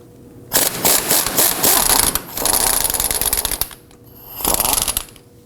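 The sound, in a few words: impact gun with swivel loosening strut bolt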